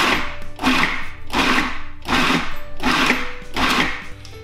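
A food processor pulses black beans and rice for burgers in five rhythmic bursts of whirring motor and chopping, each about half a second long, loud and close with brief gaps between them.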